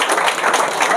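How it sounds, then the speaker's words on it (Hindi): Audience applause at an event: a continuous wash of dense hand claps from a close crowd, fairly loud and even throughout the brief moment. "पहले ताली बजा दीजिए आप लोग इनके लिए"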